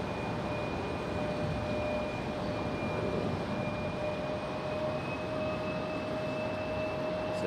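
A CRJ regional jet climbing steeply away after takeoff in stormy weather, a steady broadband roar with faint whining tones holding evenly throughout, no voices.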